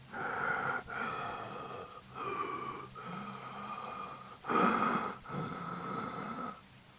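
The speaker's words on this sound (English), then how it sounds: "only the slow, rhythmic breathing from the other end" Slow, labored heavy breathing comes through a phone line, a rhythmic series of rasping, snore-like breaths and snorts, each lasting about a second, quiet and alone with no talk.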